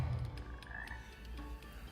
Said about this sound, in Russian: Не жаба? Лягушка?